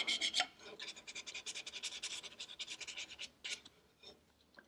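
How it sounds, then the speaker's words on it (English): Fine 320-grit sandpaper worked by hand across the end grain of a wooden furniture leg plug and rail, giving rapid rhythmic rasping strokes, close and crisp, in a steady back-and-forth run that slows near the end. "we're going to take the 320 grit paper and just do one final hand sanding on this"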